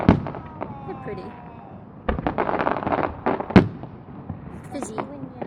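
Fireworks at the Plymouth fireworks championships crackle and pop near and far, with two sharp loud bursts and fizzing crackles between them, while people talk and murmur nearby.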